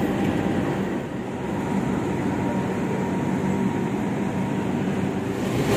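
An Indonesian diesel locomotive train rolls past, a loud steady broadband rumble with a low drone that holds evenly for nearly six seconds without a break.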